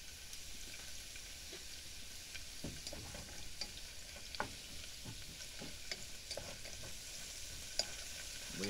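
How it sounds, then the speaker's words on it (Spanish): Onion frying in lard for chicharrones con nopales, a steady, moderately quiet sizzle and crackle with scattered small pops and occasional stirring, no voices. "Ya que tengo la manteca, voy a poner a freír la cebolla"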